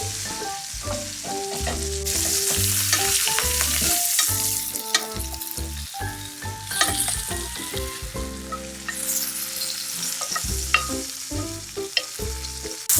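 Steak sizzles and fries loudly in a pan, a constant crackling hiss broken by scraping and clattering of utensils over thirteen seconds, close up with no talk.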